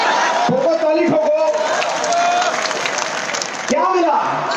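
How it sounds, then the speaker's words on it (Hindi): Audience clapping and cheering at a political rally in Mumbai, a dense, loud burst of applause from a big crowd with a few whoops, carried along without a break. "ठोको ताली ठोको"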